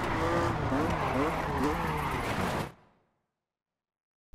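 A car skids and spins in the Colin McRae Dirt 2 racing video game, engine roaring and tires squealing loudly for a few seconds before cutting abruptly to silence.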